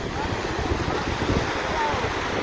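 Surf washes steadily onto the shore at Sunny Isles beach, a continuous broadband roar of breaking waves with wind buffeting the microphone, moderately loud and unbroken throughout.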